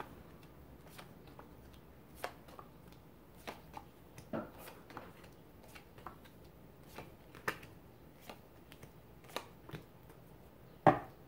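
Soft, sparse riffling and tapping of tarot cards being shuffled by hand, quiet and close, with scattered clicks and one sharper snap near the end.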